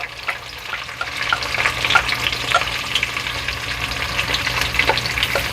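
Chopped onions frying in melted butter for pav bhaji, a dense close sizzle running throughout with light scraping stirs, loud and steady, no voices.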